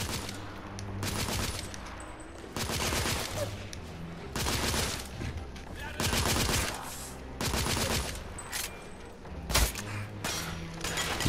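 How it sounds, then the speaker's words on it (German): Heavy, sustained gunfire in The Order: 1886, with loud repeated volleys and dense bursts of shots rolling on nearly without pause, close and intense. "Unter starkem Beschuss."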